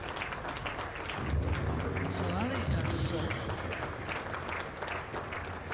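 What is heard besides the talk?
cricket crowd applauding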